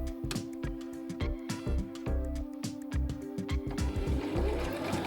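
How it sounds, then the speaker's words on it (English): A sewing machine running a zigzag stitch along fabric edges over pins, rapid even mechanical clatter with a steady motor whine, close and alone. "So just run that through your machine."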